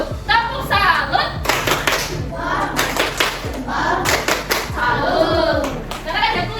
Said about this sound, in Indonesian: kita beri tepuk salut terlebih dahulu